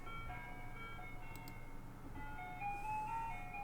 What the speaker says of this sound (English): The song playing on a pair of shitty speakers. The kind you'd hear on top of an old-timey ice cream truck.